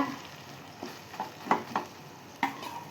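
Ground chicken sautéed in a pan gives a faint, low sizzle under a handful of soft stirring scrapes and taps from a utensil at irregular intervals, with no talking.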